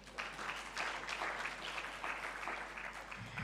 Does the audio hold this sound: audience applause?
yes